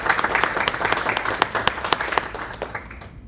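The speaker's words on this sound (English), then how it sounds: "let's give him a round of applause" Audience applause for a speaker at a tech talk, many hands clapping in a brisk, dense burst with a few sharper claps standing out, then tapering off at the end.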